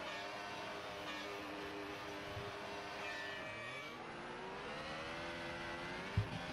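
Formula-style race cars in a sim racing video game launching off the grid at Imola: layered, steady engine whine and revving from several cars at once, continuous and fairly quiet, with no voices.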